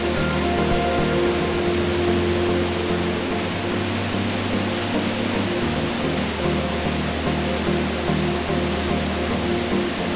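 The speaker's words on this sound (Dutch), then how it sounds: "naar de Stortvossen, ofwel de grote waterval" Storfossen, the large waterfall in Geiranger, Norway, roars in a constant, close, loud rush of falling water that stays steady and unbroken throughout.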